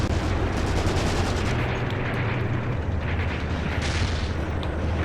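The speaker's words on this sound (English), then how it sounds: "there's an airstrike, guys. Airstrike. This is definitely ours. Il-2 Sermovics coming in." Il-2 Sturmovik airstrike in the game Graviteam Tactics: Mius-Front, heard as a dense, unbroken roar of explosions and heavy gunfire with deep rumbling booms, loud and sustained throughout.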